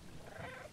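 A cat in the video game Stray gives a short, soft meow-like call with a slight purring edge, faint and alone.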